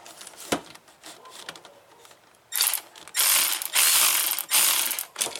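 A ratchet wrench unbolts the ICM heatsink bolts on a 1997 30th Anniversary Z28 Camaro, giving a few scattered clicks first and then loud, close bursts of rapid pawl ratcheting.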